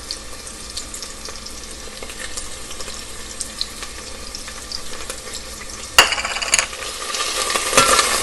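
Steady sizzling and crackling of onion and garlic frying in a pan, with occasional scraping stirs and a louder clatter near the end.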